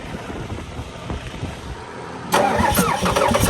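Car engine cranking over freely on the starter for a fuel-supplied engine being tested for failure, a close rhythmic chugging that turns into a louder, harsher burst near the end, with no talk.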